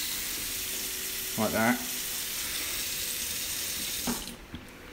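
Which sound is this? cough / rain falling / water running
water running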